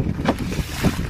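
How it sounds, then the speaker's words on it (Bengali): Strong storm wind gusts over the Garal river during heavy rain, battering the microphone in a loud, continuous rushing roar with surging swells and no voices. "প্রচন্ড তুফান হচ্ছে।"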